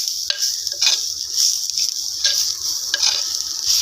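Steady sizzling of sardine peera frying in a clay pot, with a spoon stirring and scraping through it in a few irregular strokes, close and continuous.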